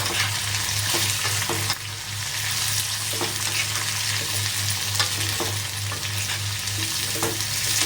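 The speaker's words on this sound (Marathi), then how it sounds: "लसूण आणि हा कांदा टाकूया. आणि छान इथे आता परतून घ्यायचं आपल्याला सगळं." Garlic, onion and peanuts sautéing in oil in a pan, a loud dense sizzle with repeated spatula scrapes and taps, steady and close, with a brief dip near the start and no talk.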